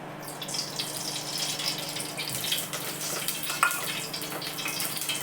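Oil heating in a cooking pot for a mutton curry makes a continuous soft hiss and faint crackle, with light clinks of the pot, alone without talk.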